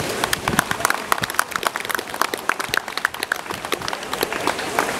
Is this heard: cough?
no